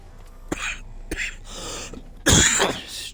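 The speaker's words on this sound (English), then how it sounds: "Stupid cough." A person coughs and clears their throat several times in close, sharp bursts, finishing with one louder, harsher cough.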